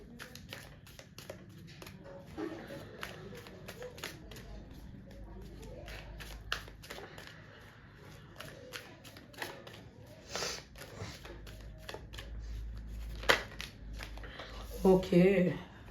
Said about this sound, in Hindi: जब तक मैं शफल कर रही हूँ ना कार्ड्स